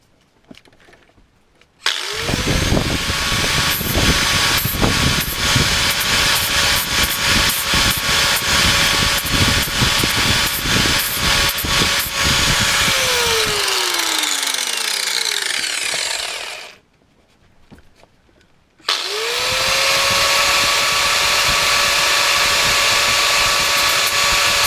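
A flap disc on an angle grinder works a metal surface, spinning up loud and close with a harsh continuous whine, winding down, then starting again after a short pause.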